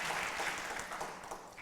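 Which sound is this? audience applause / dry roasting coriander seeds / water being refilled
audience applause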